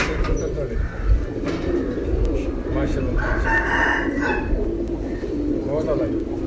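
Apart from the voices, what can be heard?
pigeons cooing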